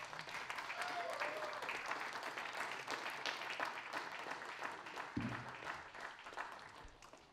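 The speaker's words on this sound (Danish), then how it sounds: "Hun skal have et ekstra bifald her." An audience at a blues jam in Viborg claps steadily for a blues singer, moderately distant, with a host's voice talking over the applause and a brief thump near the end.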